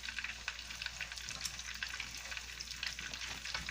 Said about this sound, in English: And they're cooking slow just like I like them, because I don't want to rush them